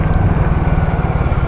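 Harley-Davidson X440 motorcycle with a manual gearbox, its engine running steadily as the throttle is opened on the road, a loud, continuous low pulsing drone from close by.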